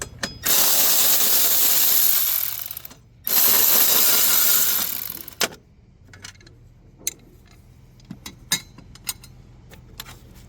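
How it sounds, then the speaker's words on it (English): A hand ratchet backs 10mm bolts off a Nissan Versa transmission mount: two long, loud, rapid clicking runs close up, then quieter scattered metallic clicks and clinks of tool and bolts. "So we'll take off these two 10mm bolts right here."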